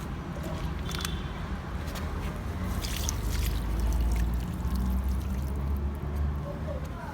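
Water pours and trickles onto potted garden plants, including hibiscus and ridge gourd, a steady close splashing stream lasting several seconds under a continuous outdoor hiss.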